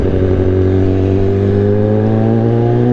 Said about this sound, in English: Also give you an idea of how this thing really sounds at higher RPM as well.